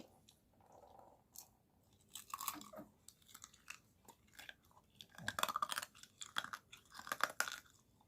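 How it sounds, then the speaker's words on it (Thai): Homemade sugar-glazed candied fruit is bitten and chewed close to the mic, giving irregular crisp crunches that grow denser and louder toward the end, with no talking. "เสียงดังกรอบกรอบทุกคนได้ยินเสียงไหมครับ"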